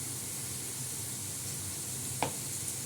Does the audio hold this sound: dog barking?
no